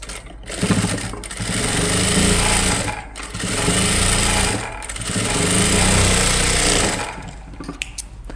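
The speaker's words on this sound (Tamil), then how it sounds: "இப்போ இதுக்கு நம்ம ஒரு படிமான தையல் போட்டுடலாம்" A sewing machine stitches a blouse joint in loud, close bursts of rapid mechanical whirring and clatter. Three long runs are separated by brief pauses.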